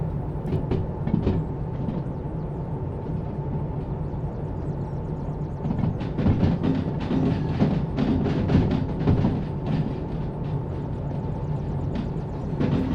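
A locomotive in Derail Valley grinds along under increasing throttle while leaving a harbour toward an incline: a continuous low engine drone and rumble with rhythmic clanking and rattling transients, steady and fairly loud throughout.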